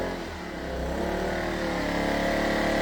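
An I-Power 2300 portable generator engine runs steadily alone, its hum settling from a faster pace into a smooth, even idle, close and continuous throughout.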